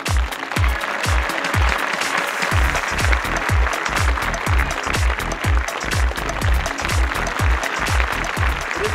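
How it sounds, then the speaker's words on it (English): An audience at the ZAK Award event clapping in welcome for a speaker, dense steady applause with rhythmic group clapping, loud and sustained throughout. "please let's welcome with a warm round of applause, Mr. Lars Anders."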